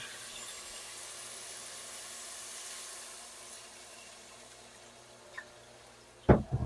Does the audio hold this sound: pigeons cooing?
no